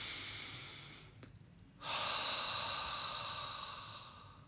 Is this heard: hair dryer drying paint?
no